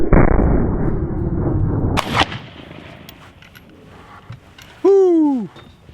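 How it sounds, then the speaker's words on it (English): A Sharps 1859 carbine fires a loose black powder load: one loud, sharp report opens the clip and rolls off into a rumbling decay. Faint shuffling sounds and a short whooping voice follow later. "A lot more smoke, a lot more powder, a lot more boom than loading them in the cartridge."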